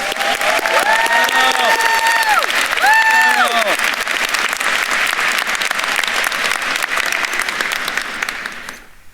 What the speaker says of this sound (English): Please give a warm round of applause to Daryl Fraser.